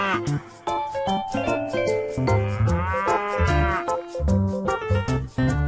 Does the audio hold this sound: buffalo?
yes